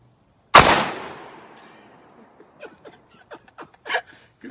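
A single loud, sharp blast from a Rock Island Armories VR80 shotgun, ringing off into a long decaying echo, followed by faint clicks and small handling noises.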